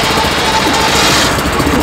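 Homemade mini tractor engine chugging steadily in reverse gear, a loud, close, rapid rattling mechanical drone that holds constant throughout without speech.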